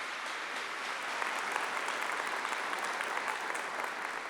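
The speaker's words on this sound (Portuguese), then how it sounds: "Pode aplaudir quem está me ouvindo." A church congregation bursts into sustained applause during a sermon, a dense, steady wash of clapping hands filling the room evenly from start to finish with no voices above it.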